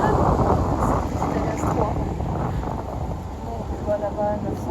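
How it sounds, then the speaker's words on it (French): Strong wind buffets a phone microphone with a constant low rumble and roar, while a person talks over it throughout. "il y a énormément de vent, donc je vais essayer de caler mon téléphone pour pas qu'on entende trop le vent"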